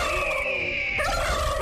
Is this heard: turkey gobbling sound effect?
yes